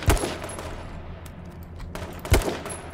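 Two loud, close gunshots in a video game, each a sharp low thump with a bright crack, spaced about two seconds apart over a quiet ambient bed.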